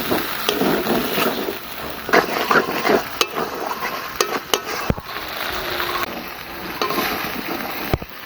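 Sliced ridge gourd tipped into hot oil in a pan for a Bengali vegetable curry, crackling and hissing in a dense, steady sizzle throughout, with occasional sharp clicks of utensils against the pan.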